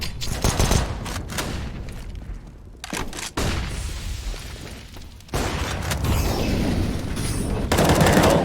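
Sustained automatic rifle fire sprayed through smoke in a competitive Counter-Strike match, loud bursts broken by brief pauses and a few sharp booms.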